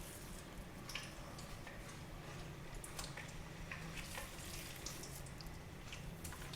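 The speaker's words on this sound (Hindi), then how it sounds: "घी हमारा गरम हो गया है। अब हम इसमें हलवा ऐड करेंगे।" Chana dal halwa hitting hot ghee in a pan, a steady close sizzle and bubbling with occasional stirring scrapes and soft crackles throughout, no talking.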